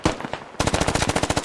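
Gunfire in the video game SquadOps: a short burst of single shots, then a rapid, even automatic-weapon volley of loud cracks.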